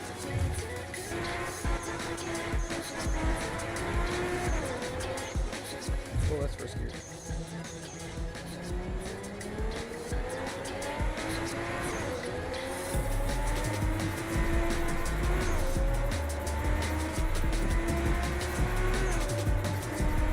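A 600-horsepower race car in the Night Runners driving game whines through rising and falling gear pulls, with bursts of tire noise, under someone talking throughout.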